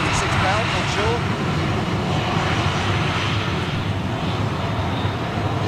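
A jet airliner with CFM56 engines roars at London Gatwick, a loud, steady, broadband engine rumble that holds constant through the whole stretch.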